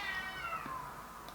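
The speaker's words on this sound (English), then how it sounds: "and now that's my cat" A cat gives a single drawn-out meow that falls in pitch, heard close and fairly faint against a quiet indoor background.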